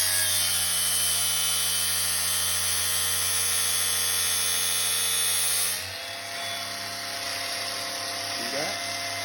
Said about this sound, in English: So I'm gonna crank up my grinder